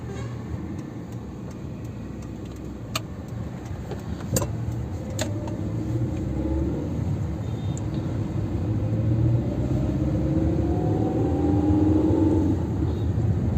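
A Maruti Wagon-R on a test drive after a clutch problem gives a steady road rumble and engine hum that builds gradually and swells as the car gathers speed, with a few faint clicks early on.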